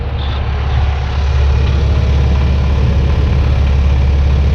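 A sailing boat's engine runs steadily during a nine-hour sea crossing, a loud continuous low rumbling drone with no change in pace, heard close by and alone.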